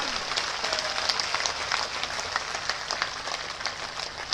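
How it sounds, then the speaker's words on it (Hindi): A crowd at a political workers' conference in Rewa claps on cue, a steady, fairly close wash of applause with sharp individual claps standing out, continuing without pause. "एक बार फिर जोरदार तालियां बजा के कैलाश जी भाई से जोरदार सिमरिया वाली ताली"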